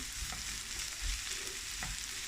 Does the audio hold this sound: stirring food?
yes